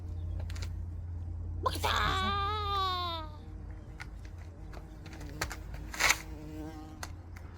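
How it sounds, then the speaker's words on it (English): A bumblebee buzzes close by for about a second and a half, its wavering drone bending in pitch, over steady background noise with scattered clicks and knocks. "Oh, busy bumblebee."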